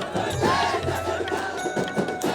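A devotional crowd at Bada Danda chants in unison, a dense roar of massed voices with rhythmic swells that carries on without pause through the short stretch.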